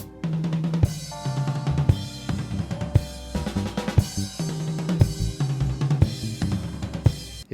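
Drum kit beat played at double speed and moving around the toms and cymbals, with steady kick and snare hits and ringing tones in a busy, close, continuous groove.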